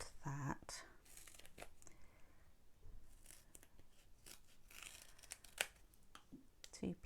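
Scissors snipping a thin strip of card during card-making, a few quiet, crisp cuts and papery rustles close by, scattered irregularly across the stretch with soft handling noise between them.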